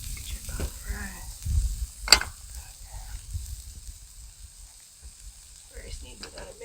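Peppers and chicken sizzle softly in a pan at a woodland campsite, with a utensil scraping through them in a few stirring strokes and one sharp clink, low and close.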